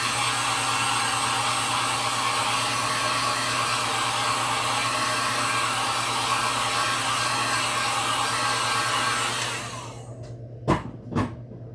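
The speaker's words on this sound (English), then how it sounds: "I'm going to hit this with the heat gun real quick, and we'll do our second coat." A heat gun blows steadily and loudly to dry acrylic paint on a wooden beach sign, then switches off and winds down, followed by a couple of sharp taps.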